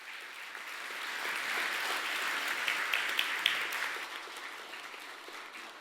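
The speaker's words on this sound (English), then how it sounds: "Please, everyone, join me in giving another big round of applause to Dr. Hong." Sustained audience applause fills a hall at an award ceremony, a steady wash of many hands clapping at even loudness for several seconds before easing slightly toward the end, with no voices over it.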